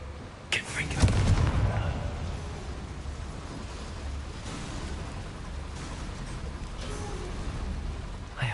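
Confringo fire spell explosions in the video game Hogwarts Legacy: a loud booming blast near the start, then further fiery bursts over a continuous low rumble.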